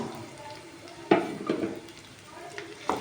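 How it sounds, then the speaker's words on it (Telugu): Onion pieces fry in hot oil in a pan for a prawn and gongura curry, a soft steady sizzle punctuated by a few sharp stirring scrapes and clinks. "ఈ నూనె వేడయ్యాక ఉల్లి ముక్కలు వేసుకోవాలి"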